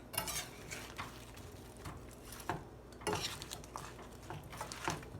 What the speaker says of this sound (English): now stir it together